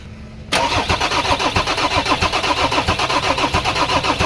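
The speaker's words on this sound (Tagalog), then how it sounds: "Okay, engine crank!" A Mazda BT50 3.2 diesel engine with a new cylinder head and injectors cranks briefly, then catches and settles into a loud, steady, close rumbling idle with rhythmic knocking pulses.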